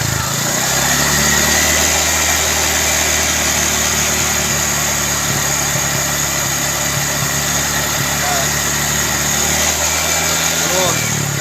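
A Honda Vario 150 FI scooter engine runs loud and close for the whole stretch, holding a steady buzzing drone with slight swells as the throttle is worked, while people talk over it.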